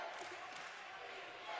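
Crowd at a Queensland Basketball League men's game between Logan Thunder and Toowoomba, a distant, faint murmur of massed voices and cheering in a large hall, steady throughout with a slight swell at the end.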